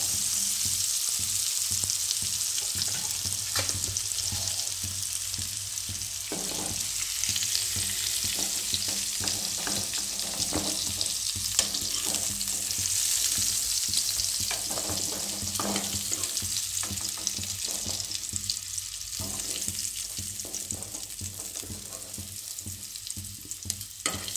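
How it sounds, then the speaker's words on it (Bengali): Blanched potatoes sizzle steadily in hot oil for a Bengali jackfruit curry, a continuous close frying hiss with occasional stirring scrapes and no talking. "আলুটা আমি একটু ব্লাঞ্চ করে নিয়েছি, যার জন্য আমি খুব কড়া করে ভাজবো না।"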